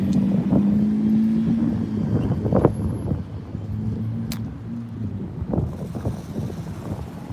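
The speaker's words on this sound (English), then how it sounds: "And then a blue truck driving out." A truck passing on a street, a steady low rumble with wind buffeting the microphone, swelling and fading as it goes by with a few sharper knocks along the way.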